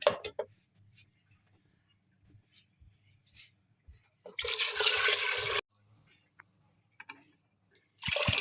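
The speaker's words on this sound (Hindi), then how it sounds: "इसमें पानी शामिल कर देते हैं।" Water is poured into a pot of fried potatoes and masoor lentils in two loud splashing bursts, the first lasting just over a second and the second starting near the end, separated by quiet kitchen clatter.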